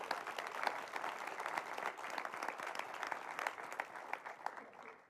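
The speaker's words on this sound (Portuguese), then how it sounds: "vamos recebê-los com uma salva de palmas" A church congregation gives steady applause welcoming pastors, dense clapping heard at a moderate distance for several seconds before tapering off.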